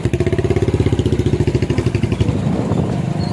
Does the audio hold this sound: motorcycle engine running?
yes